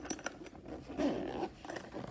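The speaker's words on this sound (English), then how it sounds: "We got the big heavy duty zipper here" A big heavy-duty zipper on a stout tactical bipod carrying case is pulled open in a few quick rasping strokes, close and fairly loud, with no voices.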